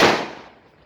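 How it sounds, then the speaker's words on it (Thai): Firecrackers set off on a bridge produce a single loud, sharp bang that quickly fades into a short crackling decay. "บนสะพานนั้นก็มีการจุดประทัดจุดอะไรของน้องๆ"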